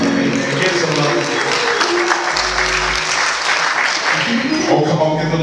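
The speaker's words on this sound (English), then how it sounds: "give the Lord a great big hand clap of praise" A church congregation at an ordination service applauds in a dense, sustained wash of clapping that fills the space, with some voices mixed in.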